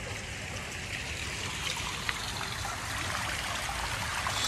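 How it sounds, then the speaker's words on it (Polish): Water trickles steadily down a small decorative waterfall wall into a garden pond, a soft, continuous splashing and rushing heard nearby and alone, without pause. "lekko woda szumi."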